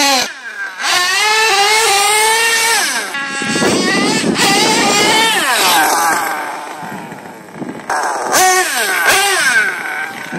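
An HPI Savage nitro RC truck with a Novarossi engine screams through the gears, its pitch climbing and dropping with each shift, loud and close, with brief revving bursts and a voice speaking over it.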